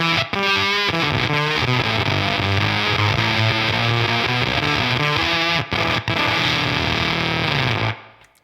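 A loud, heavily distorted electric guitar through a Beetronics Octahive V2 octave fuzz pedal, playing sustained notes and riffs with a fat, buzzing low end, no talking.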